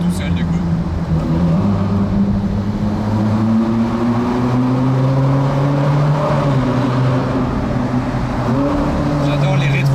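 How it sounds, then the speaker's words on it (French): A Ferrari engine on an evening drive in Monaco, loud and close from inside the car, its note rising and falling through gear downshifts, with people talking over it. "J'adore les rétrogradages."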